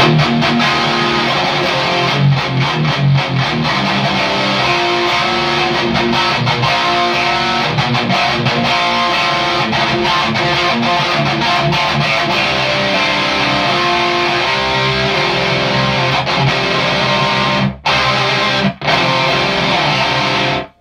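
Heavily distorted electric guitar played through a ZUUL pedal and Augustiine amp, loud and continuous, a thick saturated tone sustained for most of the time before cutting off briefly near the end.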